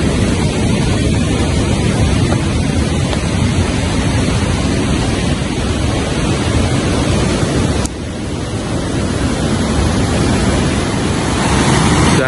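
A river at Dam Bagong in Trenggalek rushes toward a waterfall ahead, giving a steady, loud broadband roar of flowing water that never lets up, with a brief dip in level near the end.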